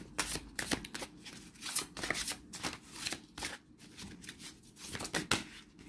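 Tarot cards are shuffled by hand in a steady run of crisp riffling and slapping bursts, moderately close, with no talk over them.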